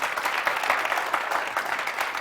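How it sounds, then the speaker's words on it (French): A French TV variety show studio audience applauds, giving a steady, even round of clapping at moderate loudness that carries on without pause. "Ben, applaudissez pour la SAP également,"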